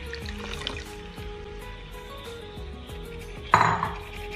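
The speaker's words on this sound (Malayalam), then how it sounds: "ഇതിൻ്റെ കൂടെ തന്നെ നമ്മൾ തൈര് ഒഴിക്കും" Curd is poured into a pot of masala with tomato, ginger and green chilli, a soft wet splatter near the end after light clinks of kitchen utensils.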